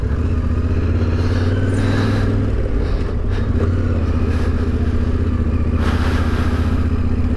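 A motorcycle is ridden over rough terrain near the source of the Nile, its engine a loud, steady, close drone with clattering bumps and a few surges in revs.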